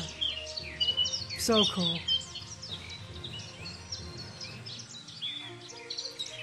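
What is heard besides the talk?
small birds singing along a hiking trail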